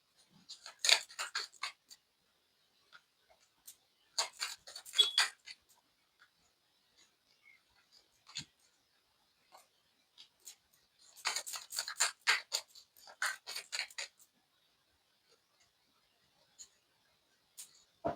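Tarot cards are shuffled and drawn in a quiet room, making soft papery riffling bursts separated by near-silent pauses and the odd light tap.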